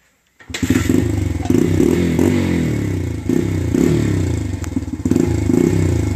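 Motorcycle with a freshly repacked muffler kick-starting into a steady, throbbing idle with loud close exhaust chatter and slight rises in revs, no voices over it.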